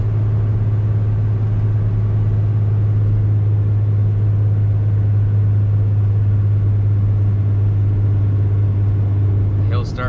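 A car engine drones at a steady pitch as it climbs a hill at speed, heard from inside the cabin as a constant low hum with a faint sound at the end.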